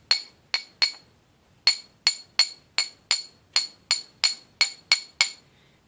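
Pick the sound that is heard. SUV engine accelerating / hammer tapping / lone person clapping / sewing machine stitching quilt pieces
hammer tapping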